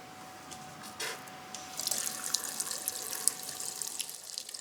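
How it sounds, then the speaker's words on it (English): Water runs from a faucet into a sink in a care setting, starting with a gush and continuing as a steady splashing stream, close by with no talking. "There's some water."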